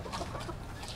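Backyard pet chickens cluck softly and continuously at close range, a steady low flock murmur with no voices.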